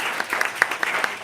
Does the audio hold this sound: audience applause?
yes